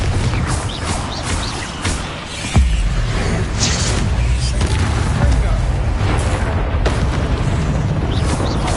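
Rumbling magical blasts and heavy booms from Bombarda and Confringo spells in Hogwarts Legacy on PS5, one sharp loud burst mid-way amid continuous dense combat noise, with a voice calling out spell names throughout.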